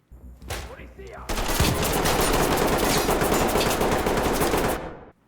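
Rapid automatic gunfire in the game Ready or Not rattles in a dense continuous burst, preceded by a few separate shots, loud and close.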